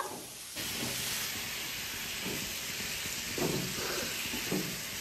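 Mushrooms and tomatoes cook in a pan with a steady, soft sizzle and hiss, joined by a few faint stirring scrapes, fairly quiet and with no voices.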